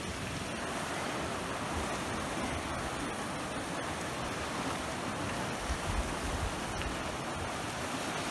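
Steady, rushing surf washes continuously onto the beach at Cala Fenile in the Gulf of Orosei, Sardinia, a loud, even wash of breaking waves with no voices.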